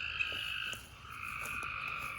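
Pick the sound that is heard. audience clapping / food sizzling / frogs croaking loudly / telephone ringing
frogs croaking loudly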